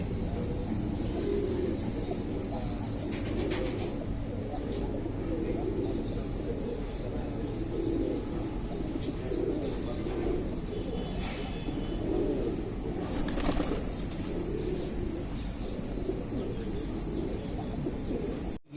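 Panjabi breed pigeons coo steadily at close range, soft overlapping throaty calls over a dense background murmur of birds, with a few brief brighter chirps and faint distant car noise.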